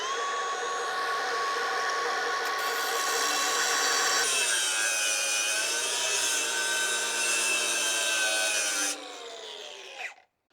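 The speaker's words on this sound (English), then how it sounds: "So now I cut that top piece with that saw" Power saw cutting through the steel top piece of an Eastonmade FG60 grapple, a loud continuous grinding whine with shifting pitch that runs steadily for about nine seconds, then spins down and stops.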